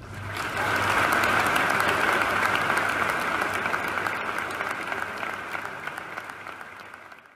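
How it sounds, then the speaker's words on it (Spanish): A large football stadium crowd at a Granada match breaks into a loud, sustained ovation of dense clapping and cheering after a minute of silence, holding steady before slowly thinning toward the end. "acabó con una sonora ovación"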